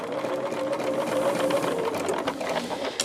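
A domestic sewing machine runs steadily as a thread cutter is triggered, giving a fast, even mechanical whir close by at moderate volume with no one speaking.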